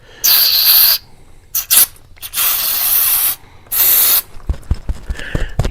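Several loud hissing bursts of carburetor cleaner sprayed from an aerosol can into a Generac SVP 5000 generator carburetor, separated by pauses, followed by faint clicks and rattling handling noises.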